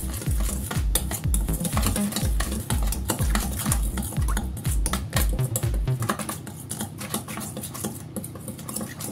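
A spoon stirs chicken adobo marinade of dark and light soy sauce and cornstarch in a bowl, scraping and clinking in a quick, regular rhythm up close before the motion turns to lighter, wetter stirring.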